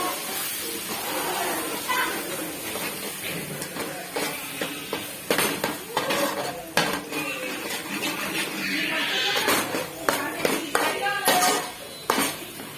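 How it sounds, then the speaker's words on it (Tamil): Metal utensil scraping and clinking against a pan as fish curry is stirred, with irregular clatter and a faint sizzling hiss underneath. "இப்போ நல்லா கிண்டி விட்டு வேண்டியதுதான்."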